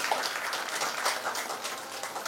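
An audience at a Bharatiya Bauddha Mahasabha Dhammachakra gathering in Ulwe Node, Panvel, claps to welcome guests, a steady patter of many hands at moderate distance with no voices over it.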